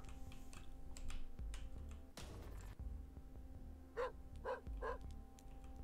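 A dog barks three times in quick succession near the end, sharp and fairly close, over a steady backdrop of video game music and sound effects with a brief burst of noise midway.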